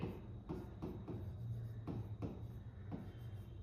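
Marker or chalk strokes scratch across a board during a classroom maths lesson, several short rubbing bursts in an uneven rhythm at close range, with a low background hum and no voice.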